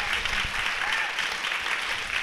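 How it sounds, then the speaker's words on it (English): A literary audience claps steadily at an event about Sarah Waters' book Tipping the Velvet, a dense, even patter of hands lasting throughout with no pauses. "you can clap, yeah, go on"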